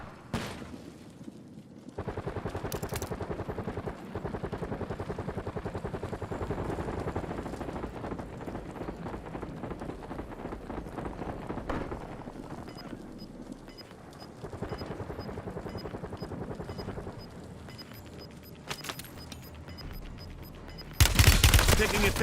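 Gunfire crackles in the Warzone battle royale game, dense bursts and rattling volleys running almost continuously, with a game announcer's voice and a heavy burst near the end.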